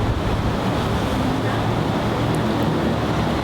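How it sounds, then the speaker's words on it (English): Wind gusting across a golf course by a bunker: a loud, continuous roar of rushing air and microphone buffeting with no pauses, dense and broadband throughout. "Hopefully the background wind is kind of clearing up the silence."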